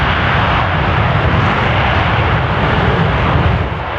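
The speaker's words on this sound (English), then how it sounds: "Burners ready now. And the Blue Angel Diamond is rolling." Blue Angels Navy jets rolling for takeoff on afterburner at an air show, a loud continuous broadband roar that fills the scene without a break.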